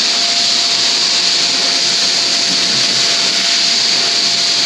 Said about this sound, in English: we're just using the Milwaukee battery powered vacuum and then dumping that into here